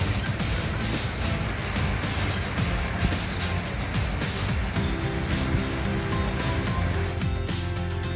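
Cheonjeyeon waterfall on Jeju Island, about 22 m high and 12 m wide, pours into a 20 m deep pond with a continuous broad roar of falling water that stays steady and loud throughout.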